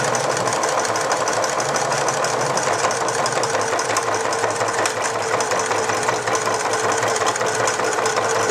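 A sewing machine stitches a straight Velcro seam on a reusable fabric snack bag, running continuously with a steady, dense mechanical whir and rapid needle clatter up close.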